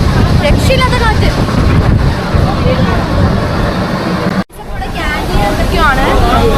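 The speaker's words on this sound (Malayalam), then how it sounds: "രക്ഷയില്ലാത്ത കാറ്റ്." Strong wind roars across the microphone at the Adiyogi statue grounds during a storm, a loud continuous buffeting rush that cuts out for an instant before surging back.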